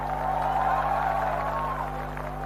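Crowd clapping at a Hindi poetry recital, a muffled, steady spread of applause from a hall audience over a constant low hum, with faint voices mixed in.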